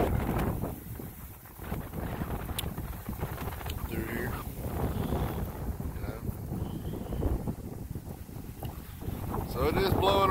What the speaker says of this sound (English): you get them big gusts of wind.